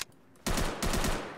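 AK-74 rifle fire in Fallout 4: two quick bursts of rapid automatic shots, loud and close, with a short pause between them.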